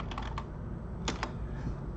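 Quick keystrokes on a computer keyboard, a short burst of light clicks followed by a couple of firmer taps, close and quiet over faint room hiss.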